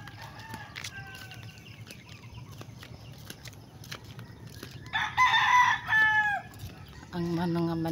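Hens cluck and chatter in the background while a rooster crows loudly nearby in two bursts, followed by another drawn-out crow at the end.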